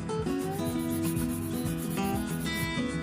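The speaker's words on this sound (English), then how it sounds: "Just that little bit of 240 grit file really snatches her up." A 240 grit nail file is rubbed across natural nails during a pink manicure, making rhythmic close rasping strokes under steady background music.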